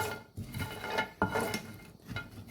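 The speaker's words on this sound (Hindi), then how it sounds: "और ये अब इसे हम हल्का हल्का भून रहे हैं।" Whole spices for homemade garam masala, including cinnamon sticks, are lightly dry-roasted in a pan, with rattling, scraping and small metallic clinks as they are stirred, close and moderately loud in uneven bursts.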